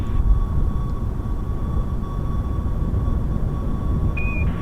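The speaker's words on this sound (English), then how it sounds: "It's a very gentle takeoff." Plane taking off in the video game Kerbal Space Program, a steady loud rumbling engine roar with a faint constant tone and a brief beep near the end.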